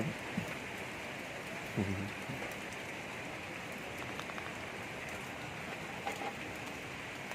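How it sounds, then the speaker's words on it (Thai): Rain falls steadily near a campsite during a morning walk outdoors, a dense, even hiss filling the air throughout with a few faint knocks and drips now and then. "ฝนตกความหัว"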